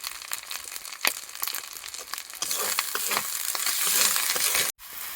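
Spices frying with garlic paste and cumin in a pan: a close crackling sizzle with scraping stirs that grows louder partway through, then cuts off sharply near the end, with no talking.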